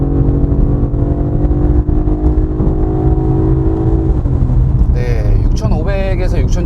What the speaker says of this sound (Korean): RPM을 끝까지 끌었을 때 이제 변속이 되잖아요.